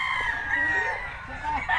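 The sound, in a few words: chickens clucking and crowing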